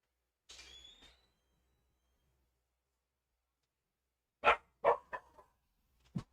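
A dog barks indoors in a quick cluster of three or four sharp, fairly close woofs after a long quiet pause.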